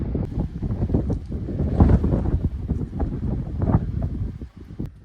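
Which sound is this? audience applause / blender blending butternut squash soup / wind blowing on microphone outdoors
wind blowing on microphone outdoors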